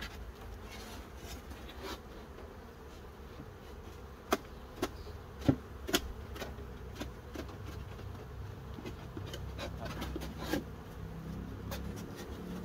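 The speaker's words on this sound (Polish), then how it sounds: "Pszczoły zostały jeszcze w skrzynce." Honeybees hum faintly around a wooden hive box during frame work at an apiary, a soft continuous buzz punctuated by scattered sharp clicks and knocks from handling.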